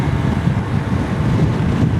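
Loud, continuous wind rushes and buffets across the microphone through an open helmet visor while riding a motorcycle, a dense low roar with no pauses.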